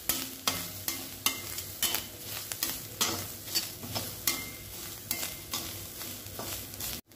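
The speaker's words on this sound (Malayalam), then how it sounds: "അപ്പോൾ ഞാൻ എനിക്കുള്ള തേങ്ങ നന്നായി മൂപ്പിക്കുകയാണ്" Grated coconut roasts with coriander and chilli in a pan, a soft steady sizzle broken by repeated scraping stirs of a spoon at an irregular rhythm.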